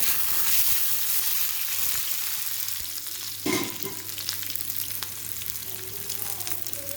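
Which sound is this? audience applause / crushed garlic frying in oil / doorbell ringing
crushed garlic frying in oil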